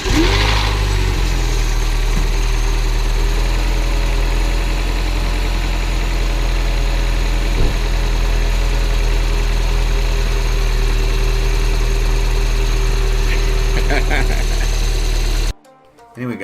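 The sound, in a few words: Mini Cooper S R55 engine starting and idling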